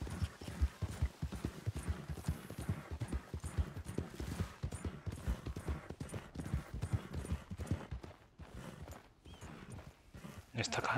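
Rhythmic clip-clop of horse hooves galloping steadily and close in Red Dead Redemption 2, with dense game music and effects underneath throughout.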